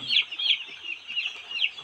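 Several chickens cluck in quick, overlapping bursts on a poultry farm at night, close by and fairly soft, with no other sounds.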